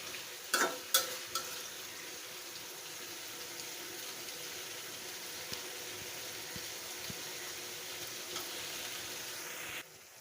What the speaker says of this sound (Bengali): দেখো ফ্রাই হয়ে গেছে আমার শুটকি রান্নাটা